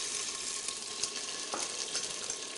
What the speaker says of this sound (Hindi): इसके बाद हम इसके अंदर ये डालेंगे टमाटर जो हमने काट के रखे थे